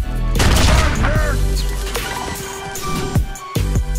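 Explosion effects from a Modern Warfare-style sound mod for Fallout 4, heard as a loud sustained barrage of booming blasts and crackling gunfire-like bursts, with further sharp detonations near the end.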